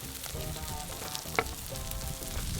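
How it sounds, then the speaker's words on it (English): Oysters sizzling in their shells on a hot Kamado Joe grill, a steady close crackling hiss with one sharp pop, no speech. "Notice how they're sizzling in that shell."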